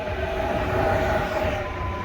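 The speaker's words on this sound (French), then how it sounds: "Ah oui, attends, regarde, il y a un autre RER encore" RER commuter train passing through Houilles-Carrières-sur-Seine station, a steady loud rumble of wheels on rails with a sustained whine on top, close by and continuous without a break.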